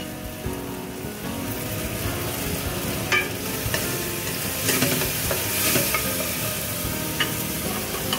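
Preserved black beans stir-fried in a hot pan for a clam dish, a dense steady sizzle with scraping stirring strokes and small crackles, close and loud with no talking.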